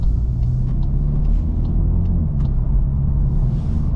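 A 2024 Volkswagen Golf GTI picks up speed, heard from inside the cabin as a loud, steady low engine and road rumble with only slight changes in pitch.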